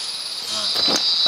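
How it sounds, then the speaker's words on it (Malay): Cicadas buzzing in a forest, a loud, continuous high-pitched drone with a brief rustling burst near the end. "Bunyi tu bunyi riang-riang."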